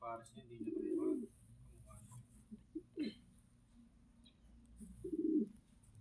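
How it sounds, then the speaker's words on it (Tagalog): Pigeons coo in low, throaty bursts at close range, with three distinct rounds separated by quieter gaps and a faint bird rustle between them. "Ayan yung mga magandang type ng pigeon."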